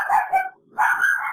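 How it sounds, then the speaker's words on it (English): A dog gives two quick barks, a short pause, then a longer bark, close and loud with no one speaking. "And that dog is barking."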